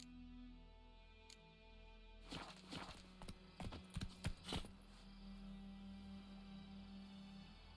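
Roach, the horse in The Witcher 3, clops her hooves in a short burst of distinct, fairly close steps after a quiet start, then settles into a soft steady background tone.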